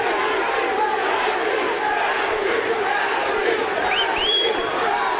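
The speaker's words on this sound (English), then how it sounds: "The crowd is now on their feet, chanting Gaethje" Arena crowd at a World Series of Fighting bout, on their feet chanting Gaethje in a loud, dense roar of voices with rhythmic chanting and a few whistles, sustained throughout.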